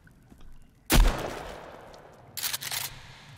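Shotgun blast in the survival video game Sons Of The Forest: one loud, sharp report with a long decaying tail, followed by a fainter burst of noise a second and a half later.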